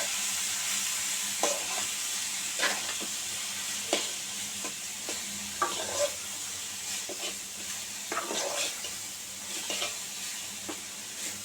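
Chopped potato and bottle gourd peel are stirred in a hot pan. A soft continuous sizzle runs underneath while a spatula scrapes in repeated, fairly regular strokes, close and alone without talk.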